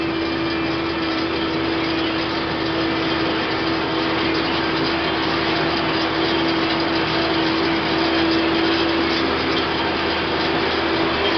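An Allis Chalmers 7000 tractor engine runs steadily while drilling fescue grass seed, a loud continuous drone with a constant tonal hum and no break throughout.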